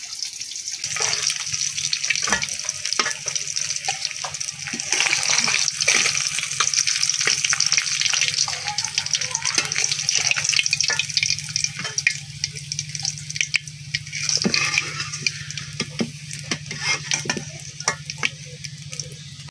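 Chunks of pangas fish and chopped onion sizzle in hot oil in a village kitchen, a steady frying hiss broken by scraping stirs, clinks and splashes of water, close and moderately loud.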